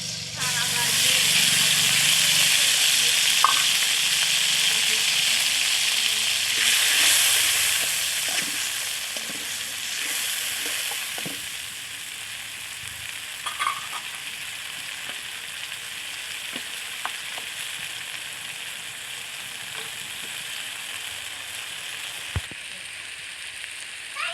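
Onion and cumin paste frying in a pan for a small fish bhuna, a steady broadband sizzle throughout with occasional stirring clicks, with a voice talking over it.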